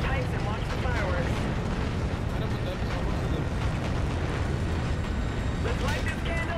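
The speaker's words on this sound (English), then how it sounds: "Let's get visual on that tower detonation." A tower detonation in the video game Call of Duty: Infinite Warfare makes a loud, sustained rumbling blast that roars on without a break, with voices mixed in.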